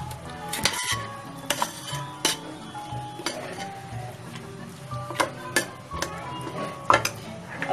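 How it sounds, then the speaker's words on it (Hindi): A spoon scrapes and clinks against a metal pot while mutton is stirred with salt and tomatoes, irregular sharp knocks and scraping over a low background, no speech. "और इसमें मैं ये टमाटर डाल दूंगी। अब इसे अच्छे से मिलाएंगे हम।"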